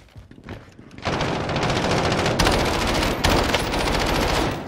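Rapid automatic gunfire from a Call of Duty Warzone match: a quiet start, then sustained loud bursts of shots over about four seconds with a brief dip in the middle, no talk.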